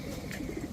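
Pet pigeons in a loft give soft cooing calls, faint and close under a steady hiss of background noise, with no talking.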